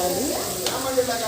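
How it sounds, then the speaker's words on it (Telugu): Chili powder frying in hot oil with curry leaves in a home kitchen for prawn curry, a steady close sizzle with light stirring scrapes, brief and alone. "కారం పొడి వేసి బాగా ఫ్రై చేసుకోవాలి."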